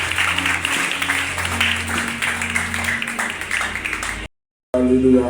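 A church congregation applauds during a French-language sermon, a steady wash of many hands clapping with crowd voices mixed in, cutting to a moment of silence before a short burst of louder sound at the end.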